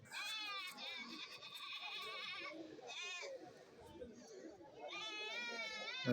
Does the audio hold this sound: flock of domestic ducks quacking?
no